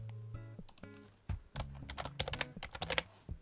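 Fingers typing a short folder name on a computer keyboard, a quick run of close, crisp keystrokes with uneven rhythm and a few louder taps near the end.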